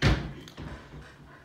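A wooden nine-light buck door slams shut once with a heavy, close thud, then a faint rattle as it settles into quiet.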